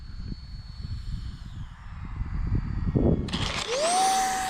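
E-flite Habu SS 50mm EDF radio-controlled jet landing outdoors: a rumbling rolling and wind noise, then a loud high electric-fan whine that rises in pitch, close by.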